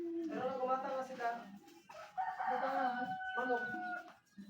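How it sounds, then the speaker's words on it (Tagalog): A rooster crows loudly and close by, two long drawn-out calls in a row with a brief pause between them. "Manok."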